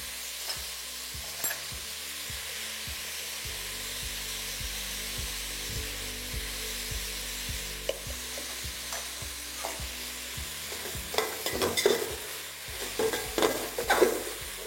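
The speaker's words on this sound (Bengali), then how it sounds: "ধৈর্য ধরে পেঁয়াজটাকে আপনাদের ভালো করে ভেজে নিতে হবে।" Onions fry on a high flame for chicken khichdi with a steady, close sizzle, punctuated by scraping stirs that grow busier and louder near the end.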